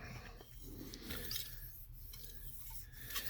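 A straight razor is drawn gently across a fine 8,000 to 10,000 grit Japanese polishing whetstone, giving soft close scraping strokes that repeat in a loose rhythm under a steady low hum.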